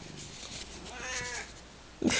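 A cat lets out a long, drawn-out meow that rises and wavers, close and clearly heard over a soft background hiss, with a brief bump at the end; no one talks.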